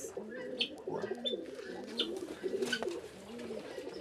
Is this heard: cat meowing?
no